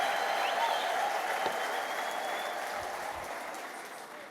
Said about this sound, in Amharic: እልልታ፣ ጭብጨባ፣ ምስጋና ታመጣለህ።